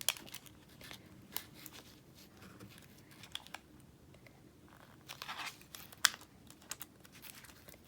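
Scissors snipping through a Sizzix Tim Holtz die-cut paper piece, irregular soft crisp cuts and rustles of paper, close and quiet with a sharper snip near the end.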